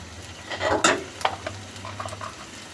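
Ginger garlic paste is stirred into frying paneer in a pan, with a soft sizzle beneath several scraping strokes of a spoon, close and moderately loud.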